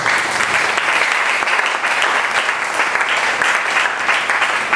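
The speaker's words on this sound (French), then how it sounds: "applaudissez" Congregation applause during a French-language sermon, a sustained wash of dense clapping from a large gathering, loud and even for nearly five seconds.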